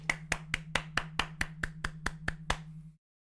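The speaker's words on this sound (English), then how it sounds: "Everybody clap!" About a dozen sharp hand claps in a quick, steady rhythm from a streamer's room, close and distinct over a low steady hum, stopping abruptly after a few seconds.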